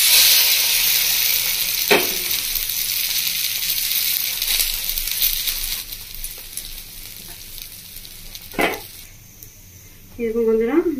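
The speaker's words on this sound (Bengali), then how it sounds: "আমার প্রত্যেকটা ঠিক আমি এভাবে কিন্তু ভেজে নিচ্ছি বন্ধুরা" Bread toast frying in ghee in a pan gives a steady, close broadband sizzle through the whole stretch, broken by a few sharp scraping knocks as the slices are pressed and turned.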